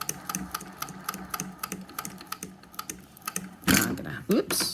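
A sewing machine with a binder attachment stitches binding onto fabric in a fast, steady mechanical patter that stops briefly before a louder whir and clunk near the end.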